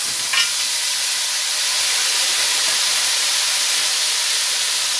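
Packet vegetables, green and white cabbage, frying in a pan with a loud, steady hissing sizzle that holds evenly throughout after a brief knock at the start, with no talking.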